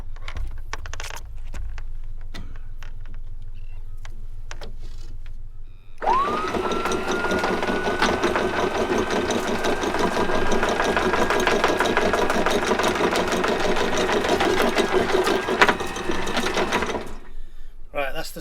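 A sailboat's inboard engine, started before raising the anchor for an overnight stop, idles with a steady close mechanical drone that runs about eleven seconds after a stretch of lighter clicks and handling noise, then cuts off.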